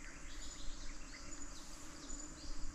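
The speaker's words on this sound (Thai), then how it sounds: "เสียงมันเหมือนรังผึ้งขนาดใหญ่นะฮะเสียงมันผึ้งเยอะมากอ่ะ" Dense, steady buzzing of many bees from a large hive hidden inside a quiet building near an entrance, a continuous high drone holding at a fairly low, even level throughout with no talking.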